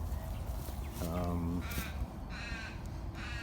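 Crows cawing in a garden, a few harsh calls at mid distance, one clear caw and several fainter ones over a steady low outdoor rumble.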